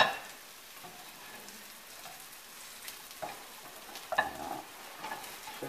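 Poultry gizzards sizzling in fat in a frying pan, a soft steady crackle with occasional brighter pops and stirring clatters, close but fairly quiet, with no speech.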